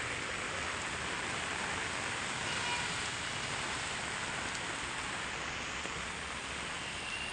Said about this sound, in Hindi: ये देखो बारिश का हाल